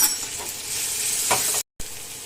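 Potatoes frying in oil with chili powder, salt and ground coriander-cumin for a Bengali egg curry, a steady close sizzle with a couple of stirring scrapes and a short break in sound.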